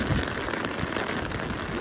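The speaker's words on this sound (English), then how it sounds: "The rain started" Steady rain pours down outdoors, a dense continuous hiss of drops striking surfaces, loud and close with no pause throughout.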